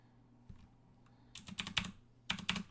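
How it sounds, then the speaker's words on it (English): Fingers type on a computer keyboard in two quick bursts of crisp, close clicks, with a couple of isolated taps before them in a quiet room. "Why am I typing when I can get my IDE to do it for me?"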